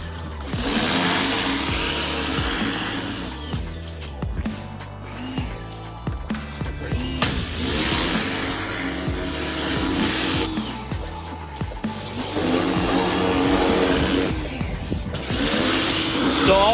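A restored Bolens 20-inch 450 series mower with a Briggs and Stratton 125cc engine runs with a rough, uneven chugging hum that surges and dips repeatedly. The engine is fairly close and plays alone, with no voices.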